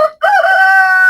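A farm chicken on an organic farm gives one loud, close, drawn-out crow-like call while being fed, alone without talk.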